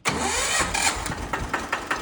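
A tractor engine cranks and catches close by, then settles into a loud, steady mechanical chug with regular rhythmic pulses toward the end.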